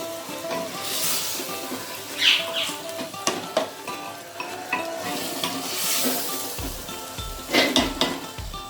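Keema with potatoes and tomatoes frying in a pan, a close steady sizzle broken by repeated scraping and clinks of a spoon stirring against the metal pan, with no voices.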